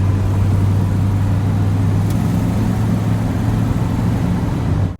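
An old Chevrolet Cheyenne pickup truck drives along under its own power, its engine giving a loud, steady low drone that holds constant before cutting off abruptly at the end, with no one talking.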